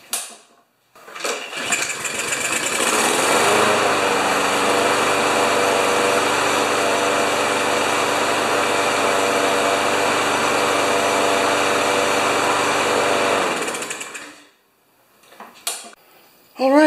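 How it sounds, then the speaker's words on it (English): A small Yard Works lawn mower with a Briggs & Stratton EX engine starts up and runs at a steady, loud high-pitched drone for about twelve seconds, then cuts out, followed by brief clattering handling noises. "this is the little yard works with the Briggs & Stratton EX motor on it"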